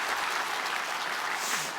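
Brief burst of congregational applause during a Sunday worship service at a Korean church, the pastor having just introduced himself; dense, steady clapping fills the short stretch with no voices over it.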